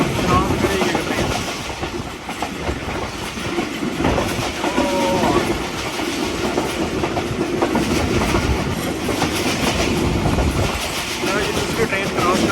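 A second train passes on the crossing track beside a stopped passenger train between Okara and Lahore, loud rumbling wheels and rhythmic clickety-clack rolling close by, with people talking over it.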